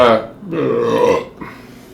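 A loud, drawn-out burp follows a sip of carbonated raspberry sour beer, a croaking belch of about a second, with a short vocal sound just before it and a faint trailing noise after.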